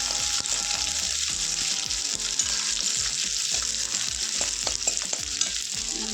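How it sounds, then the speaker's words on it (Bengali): Onions frying in hot oil with bay leaf and dried chili, cooked for paneer curry on a clay stove: loud, dense, constant sizzle with scattered crackles and soft stirring knocks, close and without voices. "পেঁয়াজগুলো দেওয়ার পরে ভালো করে ভেজে নেব একটু লাল লাল করে"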